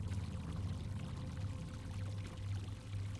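A toilet flushes in a video game, giving a continuous gushing, pouring water rush with a low rumbling undertone for a few seconds, without speech.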